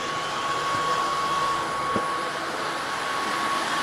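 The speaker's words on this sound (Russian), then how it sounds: "можно пропылесосить с лазерной указочкой пылесос, чтобы можно было видеть каждую пылинку" A vacuum cleaner fitted with a laser pointer runs steadily close by, a continuous airy whoosh with a thin whine and one brief knock partway through.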